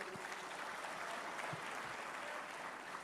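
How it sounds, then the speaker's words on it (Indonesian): An audience applauds at an Indonesian political gathering, a steady wash of many hands clapping, moderately distant and sustained throughout with no speech over it. "kita berikan aplaus."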